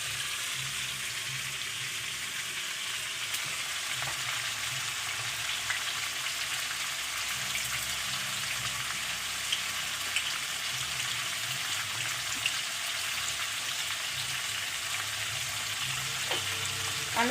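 Spring onions fry with black cumin and green chillies in oil in a kadai, giving a steady, even sizzling hiss with a few soft pops and a light clink near the end, alone without speech.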